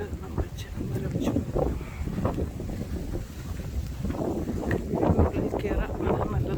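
Strong gusting wind of a Long Island blizzard buffets the microphone in rough, uneven roars that swell and fade, with a voice talking beneath it.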